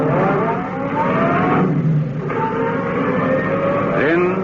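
A car engine hums and revs steadily for a radio drama, with a narrow, muffled, old-broadcast tone. The engine pitch rises and falls several times and stays continuous and fairly loud throughout.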